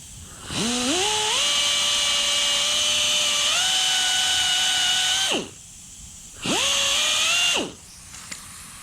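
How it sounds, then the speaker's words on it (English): Power sander fitted with 1500 grit paper running against the body of a 1955 Chevy hardtop, whining up in pitch as it spins up, holding steady for about five seconds, stopping, then a second shorter burst, loud and close with no talk. "I have 1500 grit on this sander."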